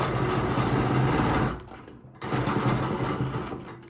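A sewing machine runs fast and close while stitching a quilt, a loud steady whirring burst that halts briefly and then starts again for a second run.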